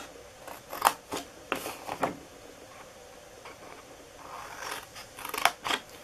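Scissors snip up the score marks on the sides of a cardboard gift box, giving crisp, close cuts in short irregular bursts with a quiet pause in the middle.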